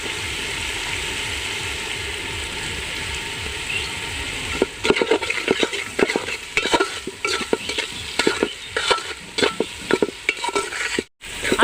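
Vegetables for fried rice fry with a steady sizzle, then a spatula begins clattering and scraping rapidly against the pan in loud, uneven strokes, with a brief pause near the end.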